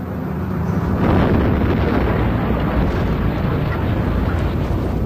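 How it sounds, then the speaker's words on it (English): An underground blast for explosion welding, a loud, sustained broadband rumbling roar that swells quickly and holds for several seconds, heavy and distant-sounding with no clear voices. "It's called explosion welding."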